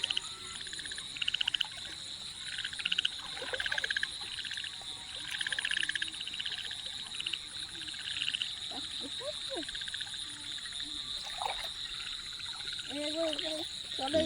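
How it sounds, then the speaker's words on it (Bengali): Frogs croak at night near water in pulsing trains of calls, fairly faint but continuous, with people talking quietly in the background. "ব্যাং পালিয়ে যাচ্ছে না?"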